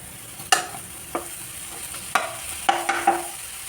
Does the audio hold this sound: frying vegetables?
yes